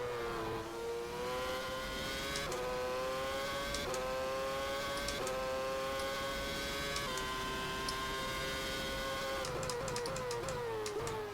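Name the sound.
F1 race car engines in the rFactor F1 2010 video game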